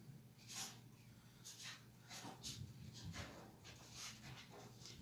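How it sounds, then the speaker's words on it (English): A small dog draws near, panting and snorting in quick, soft bursts with little whimpers, faint and close against a quiet background. "I hear a small dog coming."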